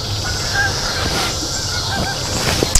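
Geese honk while taking off outdoors; repeated honks carry from a distance over a steady wash of background noise.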